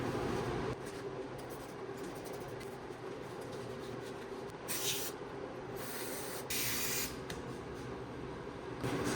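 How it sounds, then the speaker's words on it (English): An aerosol can of adhesive glue sprays in several short hissing bursts over a steady background rumble. "we're gonna spray some glue"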